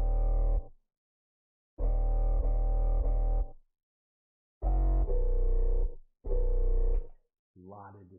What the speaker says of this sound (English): Anyways, here's the 808.